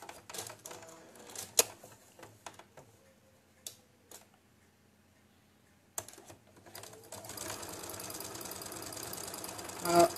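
A sewing machine stitching patchwork in short bursts of rapid ticking, separated by pauses and a few clicks, then a longer steady whirring run near the end; close and fairly quiet, no speech.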